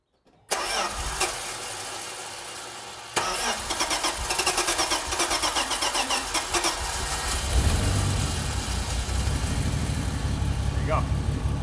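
A cheap pickup truck fitted with a budget turbo cranks briefly, then catches and settles into a rough, loud idle close by, while people talk over the running engine.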